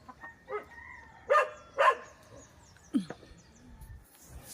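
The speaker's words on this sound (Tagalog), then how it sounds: "Hala, nakawala yung manok ni Dudong." Brief clucking and squawking bursts from a chicken, a few short calls spread across the clip amid light outdoor background noise.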